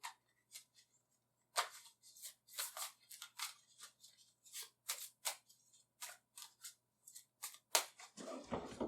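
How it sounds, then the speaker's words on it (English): A deck of playing cards is given a normal overhand shuffle, a series of quick, crisp papery slaps and riffles in irregular bursts, close and fairly quiet, with no talking. "We're going to do a normal shuffle"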